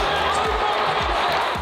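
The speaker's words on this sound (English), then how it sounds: "Great reaction from the crowd." Crowd cheering at a motorsport stadium track, a broad steady roar filling the stands with a few thuds underneath, loud and continuous throughout.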